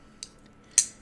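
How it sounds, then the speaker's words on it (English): Two sharp metallic clicks, a faint one followed by a louder, crisp snap, as a folding knife is flipped open with its thumb stud and locks. "flipping this out with the thumb stud, so snappy, so clean"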